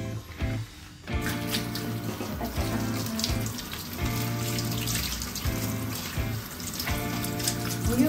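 Warm tap water running steadily into a sink or basin to bathe a pet ferret, a continuous close splashing stream with shifting texture and no talk.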